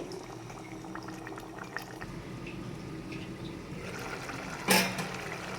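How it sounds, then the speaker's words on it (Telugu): Ridge gourd curry simmering in milk in a pot gives soft, continuous bubbling, faint and close, with a single brief clink near the end. "పాలల్లో కర్రీ అనేది ఉడికితే"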